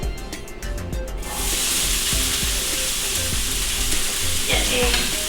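Onion dropped into a very hot pan for Cajun shrimp stuffed poblano peppers bursts into a loud sizzle that swells and holds steady, close by, with a few light clinks.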